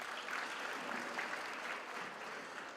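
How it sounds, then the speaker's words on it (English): Audience applause at a university graduation ceremony, steady and dense, a broad crowd clapping continuously at moderate distance for about three seconds. "Let's give a round of applause to the leadership."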